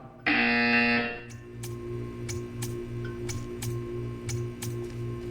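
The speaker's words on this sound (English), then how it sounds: "You will hear a buzzer." A loud, harsh buzzer in the video game Portal 2 blares for about a second, then a steady hum and regular ticking carry on in the background.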